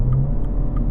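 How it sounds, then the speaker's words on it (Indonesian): The racing-exhaust sound of a Mini JCW automatic, played through the car's audio system, holds as a steady, low, muffled engine drone with no clear rise in pitch. "ya suara knalpot racingnya mirip seperti ini"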